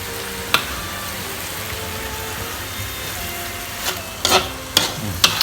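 Thai drunken noodles (pad kee mao) sizzle and get stirred in a hot pan, a soft steady fry broken by a few sharp scraping clatters of the utensil near the end, with no voices.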